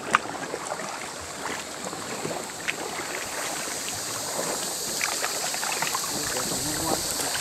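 A sea canoe is paddled through water near a sea cave around Hong Island in Phang Nga Bay, Thailand. Soft, steady water and paddle sounds with light splashes run throughout, with a faint breeze in the background and no clear talk.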